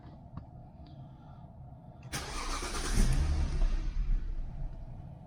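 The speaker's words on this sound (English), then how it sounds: "But let's start the car up and then see what codes we get for the engine." A car engine cranks and catches after a few faint clicks, then rises into a loud, rough close-up run.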